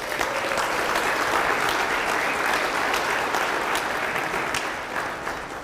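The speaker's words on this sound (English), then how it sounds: "Can we give Danny a round of applause?" A county State of the County address audience gives sustained applause, a dense, steady wash of clapping from a large crowd that holds at an even level and eases off slightly toward the end.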